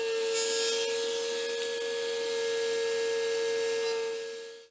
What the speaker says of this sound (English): I'm cutting that slot on my router table